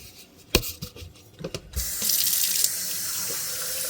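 Tap water runs into a small electric teapot in a home kitchen, a few knocks and clatters first, then a steady, close rush of filling water that carries on to the end with no talking.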